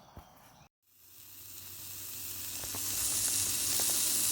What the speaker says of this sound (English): putting a mean sizzle on those hamburgers and potatoes